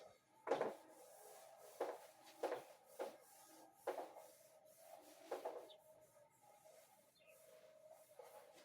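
Wiping a classroom board clean, heard as a series of short soft rubbing strokes, each a brief scuffing swipe, spaced irregularly and fairly close, with quiet pauses between them.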